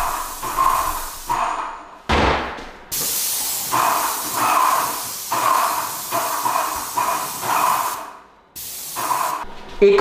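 A cheap, lightweight airless paint sprayer fitted with a 311 tip sprays lacquer paint in repeated loud, close hissing bursts of about a second each, separated by short pauses and one longer gap, with a few thumps between.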